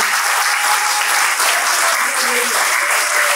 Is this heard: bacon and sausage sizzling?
no